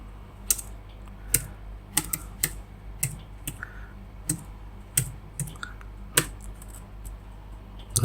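A password is typed on a computer keyboard, with irregular, crisp key clicks coming one at a time and in small bursts over a quiet room background.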